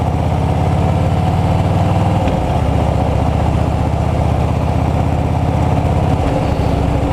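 A motorcycle engine runs steadily near the rider during clutch control and rev-matching practice, with a brief shift in engine pitch partway through and another near the end.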